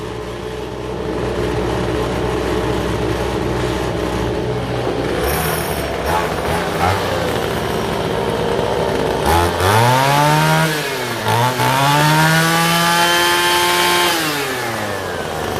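Small two-stroke engines running a 1000:1 fuel-to-oil mix buzz loudly, then rev repeatedly, pitch swooping up and down in rising and falling sweeps.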